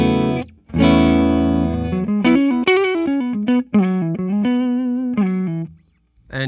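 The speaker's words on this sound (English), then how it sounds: "Let's hear some clean tones. I'm playing through the neck pickup." Clean-toned Epiphone Slash Les Paul Standard electric guitar played through the neck pickup: a strummed chord rings out, then a lively run of single notes and double-stops follows, close and fairly loud, with short pauses and a final chord.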